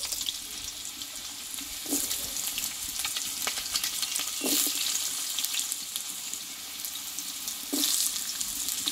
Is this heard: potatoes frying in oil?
yes